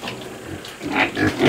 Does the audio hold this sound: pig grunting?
yes